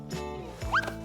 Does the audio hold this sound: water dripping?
no